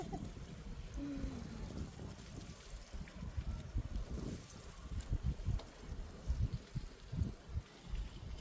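Gusty wind buffets the microphone in rough bursts over a rooftop garden, with a low rumbling roar that swells and fades; no one speaks.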